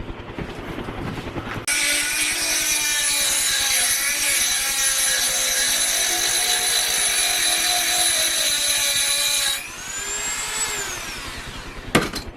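Harsh, steady high-pitched grinding as a thick cutting wheel works a steel dagger blade, sustained for several seconds after a rougher start, then spinning down with a falling whine.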